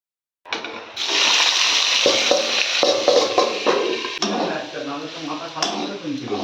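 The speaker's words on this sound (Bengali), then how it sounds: "তেলের মধ্যে দিয়ে দিয়েছি ফোড়ন দেখতেই পাচ্ছ তো" Spices temper and vegetables fry in hot oil in a pan, a loud, steady crackling sizzle that starts abruptly and continues throughout while a person talks over it.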